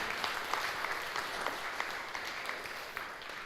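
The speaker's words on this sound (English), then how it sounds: "let's give him a huge round of applause" A room full of people applauds steadily, the clapping even and sustained throughout, with no voices rising above it.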